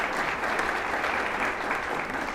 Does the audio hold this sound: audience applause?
yes